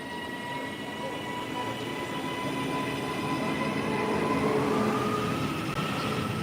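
A train pulls into a station in a video game, heard as a steady rolling rumble with faint high squealing tones drifting through it, holding at an even loudness with no speech.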